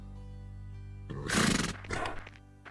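A wild horse in a French cartoon lets out a short, loud neigh over a quiet background, with a second, fainter burst after it.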